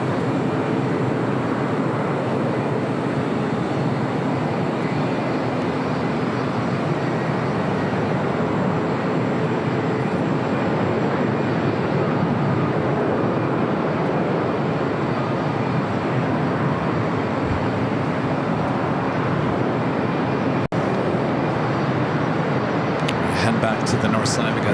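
Allegiant airliner in a special livery at LAX, its jet engines making a continuous broad roar at an even loudness, with a brief click and faint higher sounds near the end.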